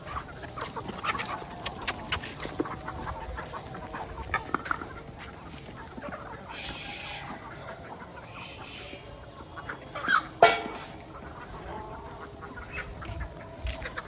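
A flock of chickens clucks and calls while being fed millet, scattered clucks and short squawks at moderate distance over outdoor background noise, with one louder burst of calls midway.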